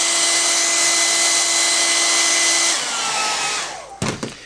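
A hair dryer blows loudly and steadily over a watercolor painting, its whine shifting slightly partway through before it switches off and winds down, followed by a few handling knocks.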